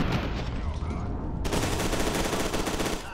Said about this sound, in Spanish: nos toca seguir pegando de tiros